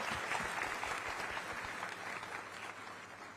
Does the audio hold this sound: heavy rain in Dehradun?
no